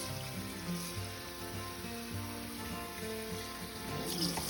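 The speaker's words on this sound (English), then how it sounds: "you're gonna rinse it just like this for about 30 seconds, and then make sure you drain it really well" Quinoa being rinsed under a running kitchen tap, a steady close stream of water splashing through the grains in a sink for several seconds.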